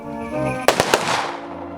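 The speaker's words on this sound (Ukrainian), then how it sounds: "Військові зробили три постріли в небо." Soldiers fire three rifle shots into the sky at a military funeral at a cemetery in Mukachevo, three sharp loud cracks in quick succession with a fading echo over a quiet outdoor background.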